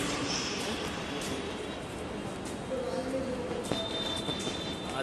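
Riding aboard a Delhi Metro Pink Line train: a steady, dense rumble of the moving carriage with faint wheel squeals and occasional clicks, continuous throughout at a moderate level, with some background voices.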